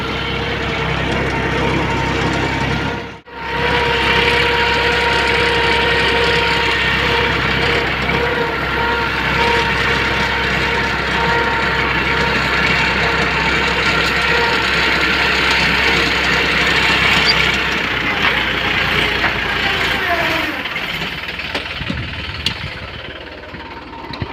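A new tractor engine chugs steadily at idle nearby in a wheat field, a constant low rumble with one brief dropout early on.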